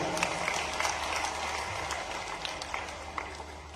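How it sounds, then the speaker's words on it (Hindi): A crowd at an outdoor public rally in Jahazpur claps to welcome the state chief minister, a steady crackle of applause that sounds somewhat distant and lasts throughout. "सभी से जोरदार ताली बजाकर माननीय मुख्यमंत्री जी का स्वागत करें।"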